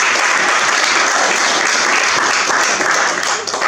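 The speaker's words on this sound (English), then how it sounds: "I think we should get a round of applause for that" Loud, steady applause from an audience at a Dundee equalities gathering, continuous dense clapping filling the whole stretch without talk.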